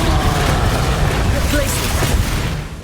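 A Confringo fire spell goes off in Hogwarts Legacy as a loud, dense blast of roaring noise. It stays close and fills nearly three seconds before easing off slightly at the end.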